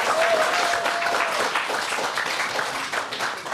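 Audience on a Russian TV quiz show applauds in a dense, even burst of clapping that carries on for a few seconds, with a faint tone briefly audible.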